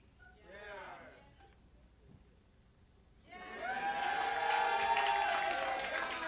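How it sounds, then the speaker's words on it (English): Audience booing at a live cartoon gripe-session event: a brief voice speaks first, then a sustained, loud, droning crowd boo swells in and holds. "Did I hear a boo?"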